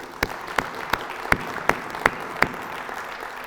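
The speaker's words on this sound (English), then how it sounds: "Let's give them a round of applause." An audience at a Chamber of Commerce State of the City event in Eden Prairie, Minnesota, claps for sponsors. Seven or so distinct claps come in a slow, even beat over a quiet room hum, with no talking.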